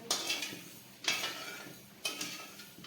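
A sugar mixture for a fasting-day sweet is stirred in a pan, three quiet, evenly spaced scraping strokes about a second apart.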